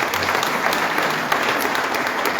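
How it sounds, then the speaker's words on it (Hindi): Steady applause from an audience at a job fair event in Shimla, dense and continuous clapping from many hands throughout, with no break. "किरण बाबा जी ने सबसे पहले ताली बजाई"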